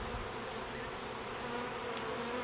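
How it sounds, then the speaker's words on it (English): Honey bees fly around a nucleus hive in a continuous, close, droning buzz that holds steady throughout. "a lot of bees flying around in the air"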